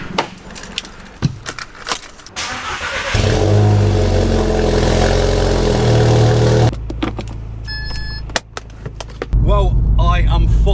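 A VW Scirocco R engine, heard with clicks and knocks at first, then a loud steady idle rumble, a quieter pause and a renewed surge of revving, with some talking mixed in.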